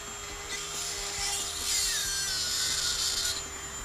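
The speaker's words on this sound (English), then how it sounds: "we're going to drill a hole through our base to feed our wires through to our linker plug" A drill bores through the wooden base of a model railway scenery layout, giving a steady, close grinding whir with rising and falling scraping texture throughout, no voices.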